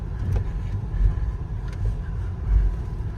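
Volvo V60 Hybrid pulls away in hybrid mode, heard from inside as a low, steady rumble of road and drivetrain with gentle swells and no voices.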